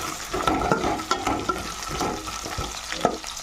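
Vegetable sambar with carrot, tomato and okra cooking in a pot, with a soft bubbling sizzle under repeated clinks and scrapes of stirring.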